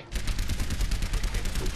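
Soldier 76's rifle in the Overwatch video game fires a steady, rapid automatic stream of shots, loud and close, after a brief quiet start.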